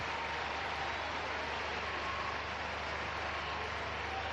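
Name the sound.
stadium crowd applause at women's football match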